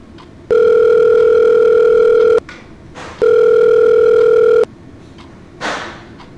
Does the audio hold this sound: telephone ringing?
yes